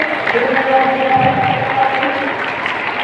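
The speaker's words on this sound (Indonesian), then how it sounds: "Bapak Ibu boleh berikan tepuk tangan yang meriah semangat kita pada hari ini." An audience at an Islamic Qur'an memorization event claps enthusiastically in a dense, sustained wash of applause, loud and fairly close, with faint voices mixed in.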